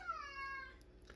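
A single cat meow, a short falling tonal cry heard quietly in an indoor room without talk.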